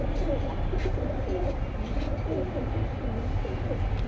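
Pigeons at a bird sale coo in low, rolling murmurs that repeat through the clip against a steady hum of background noise.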